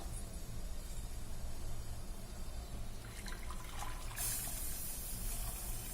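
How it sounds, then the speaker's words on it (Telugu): Strained jaggery syrup pours and trickles steadily, faint and close, with a brief brighter splash near the end. "వడకట్టుకున్న జ్యూస్ని పోసేద్దాం"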